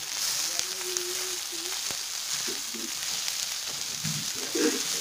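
Onion and ginger sautéing in a pan, a steady soft sizzle with light stirring scrapes and a few brief voice sounds over it.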